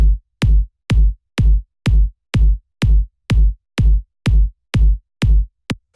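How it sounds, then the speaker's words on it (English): A deep, booming 808-style electronic kick drum repeats alone in a steady beat, each thump with a sharp click and a heavy, rounded low tail. "this very fat, punchy kick sample"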